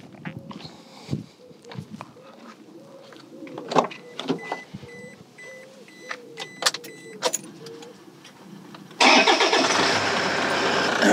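Car engine cranking and catching, then settling into a loud steady run at close range, following several seconds of clicks, clunks and small mechanical noises in a vehicle fitted with a lithium house battery.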